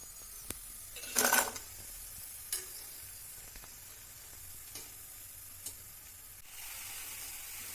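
Cauliflower pieces frying in hot oil for gobi Manchurian, a second batch: a soft, steady sizzle with a brief louder crackling burst and a few faint clinks of a utensil against the pan.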